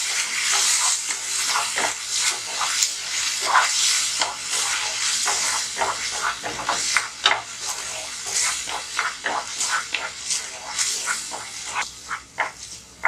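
Ground onion chutney is stirred into a pan, with wet, squelching scrapes and soft splashy bursts repeating in an irregular rhythm, close and moderately loud, with no talking.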